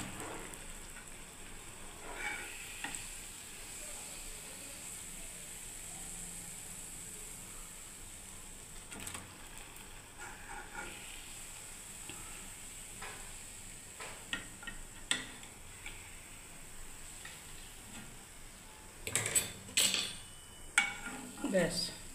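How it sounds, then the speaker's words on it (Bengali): Malpua pancakes fry one at a time in oil over low heat, giving a soft, continuous sizzle with occasional utensil scrapes and clinks that grow louder and more frequent toward the end. "এরকম করে আমি সব মালপোয়াগুলোকে এক একটা করে ভেজে নেবো"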